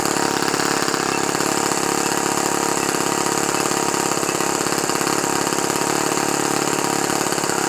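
An ASP FS 30 AR model four-stroke engine idles steadily after starting while being run in, a loud, constant, buzzing rattle with a fast even beat and no talking.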